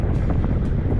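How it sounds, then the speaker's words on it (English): Strong wind buffeting the microphone on a fishing boat off Hawaii, a steady loud roar of gusty rumble filling the whole moment without any voices. "it's super windy."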